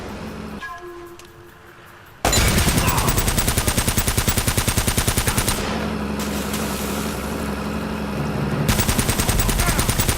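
Automatic gunfire from Uncharted: The Nathan Drake Collection: after a quieter opening, loud, rapid, continuous bursts of shots hammer on close by in a steady rhythm for the rest of the clip.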